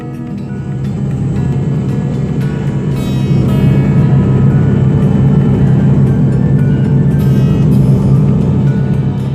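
An airplane flies over the Himalayas on the way to Mount Everest, giving a loud, continuous engine and cabin drone with no breaks and no talk.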